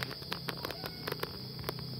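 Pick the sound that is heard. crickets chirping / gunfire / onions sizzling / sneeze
crickets chirping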